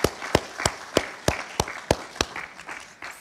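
An audience at an academic political science conference claps in a steady, evenly spaced rhythm, about three sharp claps per second, close and clear, with no talking.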